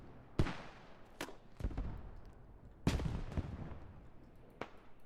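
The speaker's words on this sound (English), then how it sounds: "This GL player just lobbing grenades onto the mid cap" Grenade launcher rounds lobbed onto a central capture point in the Squad military shooter, heard as several sharp, widely spaced blasts, some with rumbling tails, over a steady battlefield background.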